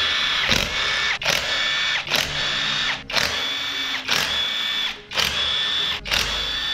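A small electric drill removes the cover screws on an Altus XSR-250 motorcycle engine, whirring in about six short, close bursts separated by brief pauses.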